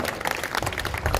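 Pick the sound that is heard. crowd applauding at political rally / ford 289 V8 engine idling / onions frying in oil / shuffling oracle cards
crowd applauding at political rally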